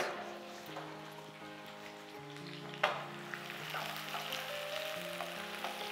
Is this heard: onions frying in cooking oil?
yes